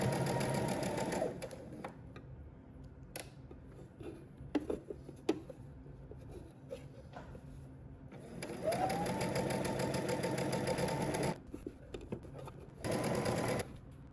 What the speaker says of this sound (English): Then we're going to stitch close to the edge.